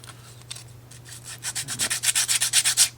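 Rhythmic rubbing strokes of sanding on a small part of a Rolife 3D bookend model kit, starting soft then growing louder and faster, close up over a low steady hum.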